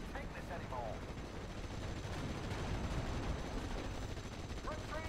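Gunfire in the World War II game Steel Division: Normandy 44, a steady wash of distant rattling shots and battle noise with no clear single reports, and faint voice-like calls at the start and end.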